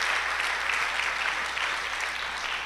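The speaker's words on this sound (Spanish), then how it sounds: "Dale un fuerte aplauso al Rey de Reyes y Señor de Señores." Steady, loud applause from a church congregation during a Spanish-language worship service, filling the whole stretch without a break.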